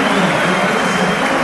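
A stadium crowd at an Argentina versus Colombia World Cup qualifier gives Paulo Dybala a loud, steady, continuous ovation, with a dense roar of applause and cheering filling the space.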